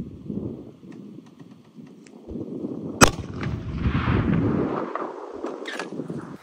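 Single 300-caliber hunting rifle shot at a distant rock target during a coyote hunt on horseback, one sharp crack midway over steady wind noise and outdoor rumble, no talking.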